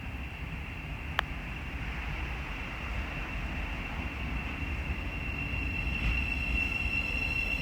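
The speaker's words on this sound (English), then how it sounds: "Northern service from London King's Cross to Welwyn Garden City, being worked by a Class 717." A Northern Class 717 electric multiple unit passes at Welwyn Garden City on the East Coast Main Line, a steady mid-distance rumble with a sustained tonal whine and one sharp click early on, no voices.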